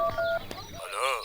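A telephone number is dialed in a Hindi film comedy scene, giving a short run of bright keypad tones followed by a warbling electronic tone, with speech briefly overlapping.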